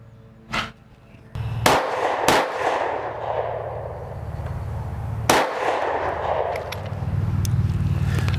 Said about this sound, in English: when it turned, I got 2 shots off, and then I got my 3rd one when it turned back